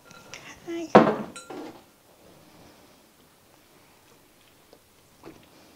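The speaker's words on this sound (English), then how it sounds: "I'm going to add 4 cups of cheese and stir it till it melts" A spoon clanks and scrapes against a pot while cheese is stirred into broccoli cheddar soup, one loud clatter then quiet with faint taps.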